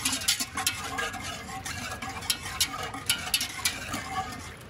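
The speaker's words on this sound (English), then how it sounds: "we're back to our pot. Another stir." Mustard pickle mixture being stirred in a pot during water bath canning, a soft continuous bubbling simmer with faint scraping strokes and light clinks repeating under it, fairly quiet and close.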